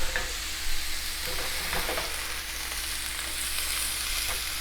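Ground beef sizzles and fries steadily in a hot pan, a dense crackling hiss, with a few scraping utensil sounds near the start; no voices.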